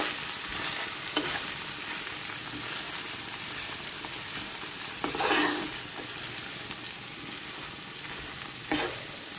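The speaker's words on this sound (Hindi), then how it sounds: "सालन गरम कर रही हूँ। ये बीफ है फ्राई पैन में" Beef curry heating in a frying pan, a steady soft sizzle and crackle running continuously, with a few brief scraping stirs of the utensil against the pan.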